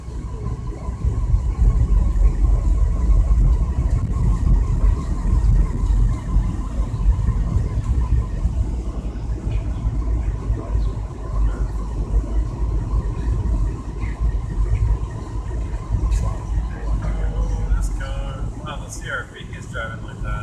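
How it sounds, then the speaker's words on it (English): A car drives slowly along a slippery, bumpy winter road, with a steady low rumble of engine and tires heard from inside the cabin throughout. "We're trying to drive to Walmart."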